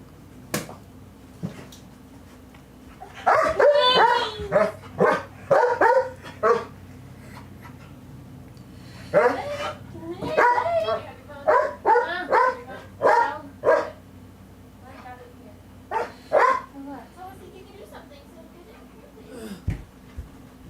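A dog barks, yips and whimpers in a series of short, close bursts clustered through the middle, with quieter gaps and a faint background hum between them.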